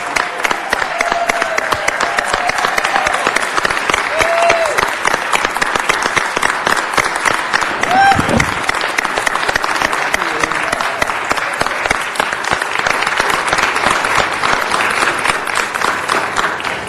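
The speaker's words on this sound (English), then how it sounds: "Please give her a round of applause." A large audience at a city council meeting breaks into steady, dense applause that holds loud and even for the whole span, with faint voices and cheers mixed into the crowd noise.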